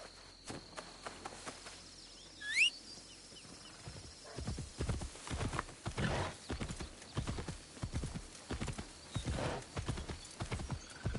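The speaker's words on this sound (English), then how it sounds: "I think the horse might be slower than me." A horse's hooves clip-clop steadily in the video game Assassin's Creed Shadows, with a brief whinny early on and crickets chirping faintly in the background; no one speaks.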